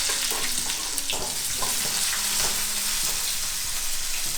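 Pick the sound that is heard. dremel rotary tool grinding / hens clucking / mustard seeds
mustard seeds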